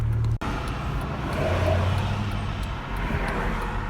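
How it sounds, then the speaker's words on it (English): A car approaching on a quiet rural road produces a continuous low engine and tire rumble that builds gently, heard from inside another vehicle, with a sharp brief click near the start. "I'm sitting here, and a car's coming, so I gotta go"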